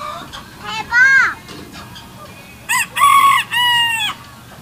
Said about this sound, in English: That rooster's smaller than the other roosters.